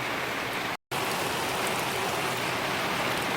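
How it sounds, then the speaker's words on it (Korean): Steady rain pours at a night freshwater crucian carp fishing spot, a dense continuous hiss close around, broken by a brief silent gap near the start, with no voices. "11시 48분인데 비가 계속 옵니다"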